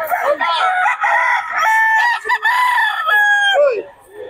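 A chicken at a Bocaue market vocalizes loudly and close, with a series of drawn-out, wavering clucks and crowing calls, brief pauses between them.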